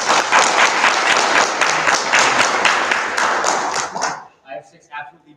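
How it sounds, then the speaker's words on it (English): A crowd of students and spectrators at a U.S. history bee finals claps loudly and briskly for about four seconds, then the applause cuts off, leaving a few scattered sounds and a voice. "Give yourselves a round of applause."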